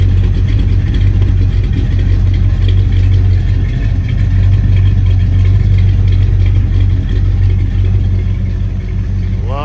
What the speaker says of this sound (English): Once we get back here to the back, you'll hear the sound coming out of the tailpipe